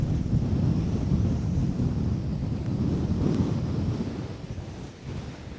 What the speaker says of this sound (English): this wind it's made it really hard work today